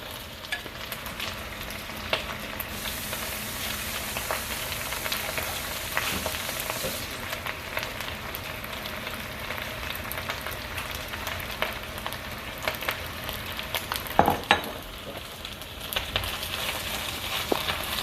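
Eggs fry in a hot pan with a steady, dense sizzle and crackle that holds for the whole stretch, with occasional clinks and stirring noises and no talk.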